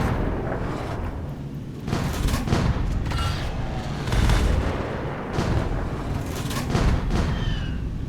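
Tank cannon fire in a World War tank battle video game, a shell striking an enemy tank's front: a series of loud, heavy booms over a dense, continuous rumble of combat.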